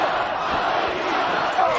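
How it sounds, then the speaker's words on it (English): A wrestling arena crowd at a Monday night Raw event chants for Batista, a dense, loud, sustained roar of many voices filling the hall without a break. "Crowd chanting for Batista"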